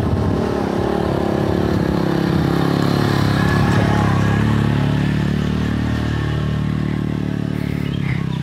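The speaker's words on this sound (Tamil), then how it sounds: "வண்டி எப்படி மேலே ஏறுது பாருங்கள்." A vehicle engine labours steadily up a steep hill road on a forest route to a tribal village, a loud, continuous low drone with clattering and rattling throughout and no talk.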